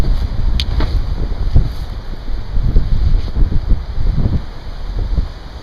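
Loud wind blowing outdoors at a hammock campsite, rumbling and buffeting the microphone steadily for a few seconds with no speech.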